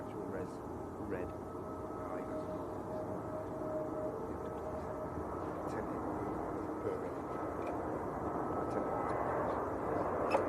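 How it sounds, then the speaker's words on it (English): A British Airways airliner on short final approach at Manchester Airport gives off a steady, moderately faint engine rumble and whine that gradually grows louder, with occasional background noises. "British Airways on short finals."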